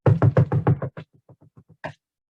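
A voice imitates a knock at a door during a spooky Halloween story: six loud, rhythmic knocking sounds, then a quieter run of softer ones and a final louder beat.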